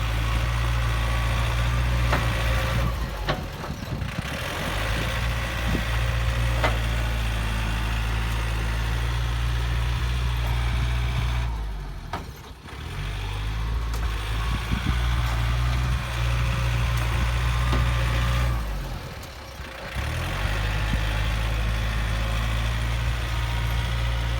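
A stock, unmodified Yanmar rice combine harvester engine idles steadily, a loud, close, continuous low rumble with brief dips in level, no voices.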